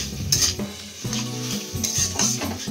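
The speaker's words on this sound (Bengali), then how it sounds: "এবার বেগুনটা আমি কড়ার মধ্যে দিয়ে দিয়েছি, এগুলোর সাথে ভালো করে মিক্সড করে নামাবো।" Eggplant being stirred and mixed in a hot wok, scraping metallic clinks of the spoon against the pan over a steady sizzle, close by.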